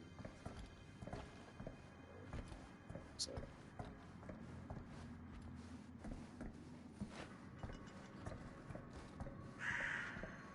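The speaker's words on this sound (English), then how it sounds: "So don't think I haven't been hearing that fucking crow." A crow caws in the horror game The Casting of Frank Stone, faint and distant, under quiet background game noise with soft footsteps.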